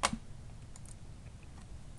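Keys tapped on a computer keyboard while working in an Excel spreadsheet: one sharp keystroke at the start, then a few faint clicks against a quiet room background.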